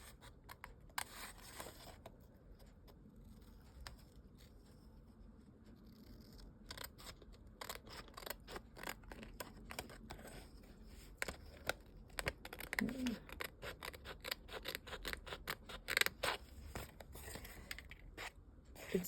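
Scissors snipping paper to trim a handmade card, many quick close clicks and cuts in irregular bursts, fairly quiet, with occasional soft handling of paper between.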